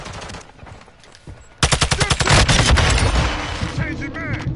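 A Modern Warfare 2 gunfight opens with quieter distant shots, then bursts into loud, rapid automatic fire in a tight rhythmic stream, followed by scattered shots and game effects.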